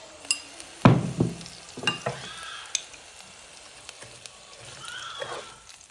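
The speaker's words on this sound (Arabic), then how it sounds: "نضيف بصلة مبشورة،" Grated onion hits hot table oil in a pan with a loud burst of sizzling that settles into a steady crackling fry, with a few scraping stirs and small clinks over about six seconds.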